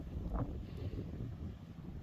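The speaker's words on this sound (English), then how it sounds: "Jeez, it's windy." Strong wind in Edinburgh buffets the microphone with a low, continuous rumble and gusty roar outdoors, with no one speaking.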